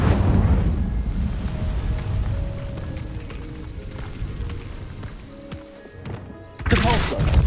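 Incendio fire spell blasts in the video game Hogwarts Legacy, heavy booming bursts and rumbling impacts layered with combat effects, a big blast near the end, with shouted voices over the action.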